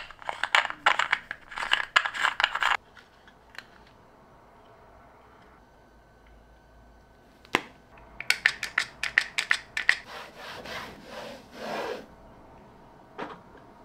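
A microfiber cloth wiped across the build plate of a Bambu Lab A1 3D printer, giving close, dry rubbing strokes in two quick bursts separated by a quiet pause.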